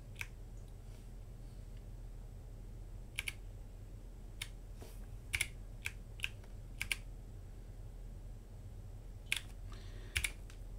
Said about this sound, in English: how do I get my pound symbol on that keyboard?